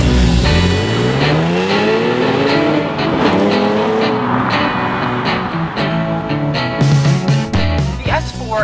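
Audi S4 with a 3-liter supercharged V6, six-speed manual and Quattro, driving with loud, rising and falling engine revs, gear changes and a sharp burst near the end.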